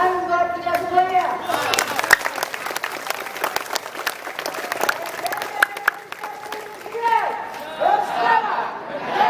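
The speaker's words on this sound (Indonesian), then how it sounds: "tepuk tangan buat kita semuanya" Students and staff clap at an Indonesian junior high school flag ceremony in Jakarta marking National Awakening Day. Dense, irregular clapping rises and falls over about nine seconds, mixed with crowd chatter and a voice speaking.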